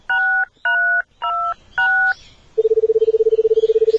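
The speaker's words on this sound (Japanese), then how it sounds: "さあ、電話をかけました。" A telephone in the Paranoiac horror video game is dialed with four distinct keypad tones, followed by a rapid pulsing ringback tone, loud and close with no voices.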